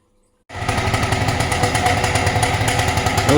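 An ATOM 80 78cc two-stroke light aircraft engine starts abruptly from silence and runs loud and close, a harsh rasping buzz with propeller drone at steady high revs.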